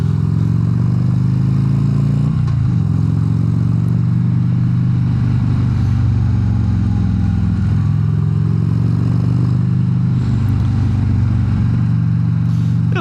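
Custom 2016 Harley-Davidson Road Glide motorcycle on the move, its deep V-twin engine rumbling steadily and loudly throughout, with a few gear changes and throttle swells as it rides along.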